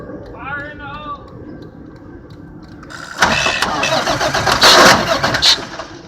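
Truck engine starting after its fuses are wiggled, with a voice talking first, then a cranking burst that catches into a loud rough running engine, close by and revving unevenly.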